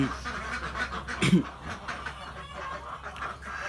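Laying ducks, 27 weeks old, quack in a busy chorus, one louder squawk standing out over a constant background murmur of birds.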